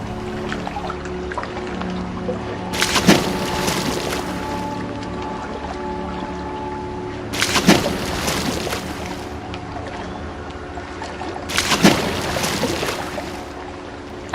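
A woman bathing in a garden pond on a hot day, water splashing in three separate surging bursts a few seconds apart, close, over a steady background wash.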